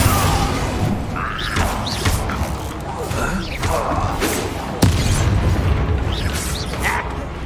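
Spell blasts from the Confringo fire spell in Hogwarts Legacy, thumping bursts and crashes amid chaotic combat noise, with a sharp hit near the middle and voices over the fight.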